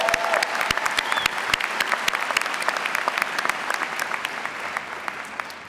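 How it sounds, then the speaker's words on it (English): Sustained applause from a large audience at an engineering school graduate ceremony, steady dense clapping with sharp individual claps standing out, holding at an even level throughout with no talk. "Another round of applause for you."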